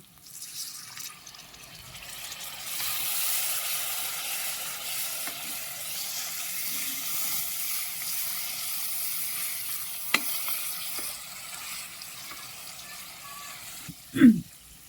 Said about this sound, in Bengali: এবার সামান্য পানি দিয়ে মশলাটা ভালোভাবে কষিয়ে নেব।